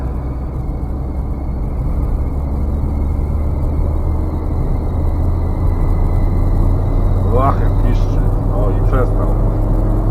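Fiat 125p car driving through Warsaw, a steady, loud engine drone with low rumble heard from inside, with a faint squealing belt and brief rising whines near the end, no talk.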